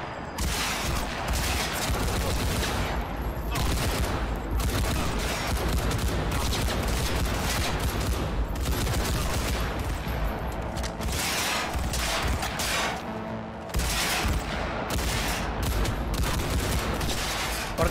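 Rapid gunfire in the video game Cyberpunk 2077 comes in dense bursts of shots and fusillades, loud and continuous with brief gaps, and no talk over it.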